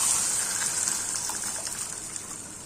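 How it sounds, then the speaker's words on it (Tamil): Water pours into a cooking pan of tomato and chili masala for a lentil-dumpling kuzhambu, a steady close gushing flow that slowly eases off, with no voices. "தண்ணி ஊற்றிக்கணும்."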